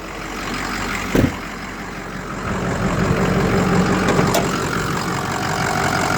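A 2005 Ford F250 Lariat crew cab 4x4 with a Powerstroke diesel engine idling steadily under an open hood, a constant close rumble with a brief sharp knock early on.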